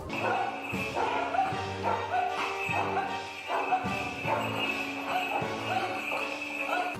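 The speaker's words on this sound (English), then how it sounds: "a pack of loose dogs claims this place as untouchable territory" A pack of loose dogs in a narrow alley bark in a rhythmic series of sharp, fairly close barks, with a steady hum running underneath.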